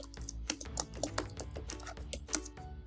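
Steady typing on a computer keyboard, a close, continuous run of quick key clicks with no talk.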